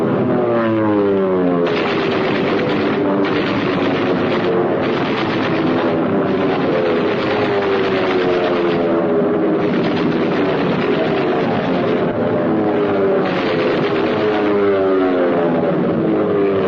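Allied propeller warplanes of the 1940s roar loudly and continuously in archival wartime footage, a dense droning engine sound with pulsing, shifting tones as several aircraft pass, with no talk over it.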